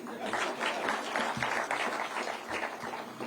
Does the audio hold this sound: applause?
yes